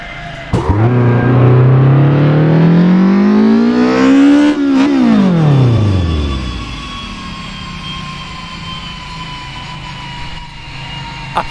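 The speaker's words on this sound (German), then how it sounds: "Gerade verzahnte die Triebe." Straight-cut gears whine loudly as an Opel Kadett C 16V racing car accelerates in the video game Assetto Corsa, the pitch climbing steeply, then dropping as it shifts and fading into a steady drone.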